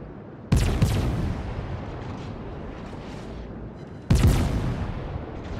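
Two heavy, booming salvos from warship guns in World of Warships, each a sharp loud blast followed by a long rumbling tail, spaced several seconds apart over steady background rumble.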